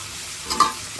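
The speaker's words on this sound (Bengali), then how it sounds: "বাকি কুমড়াগুলোও আমি খুব সুন্দর করে এখন ভেজে নেব।" Pumpkin pieces fry in deep oil in a pan, a soft brief sizzle with a small stirring clatter.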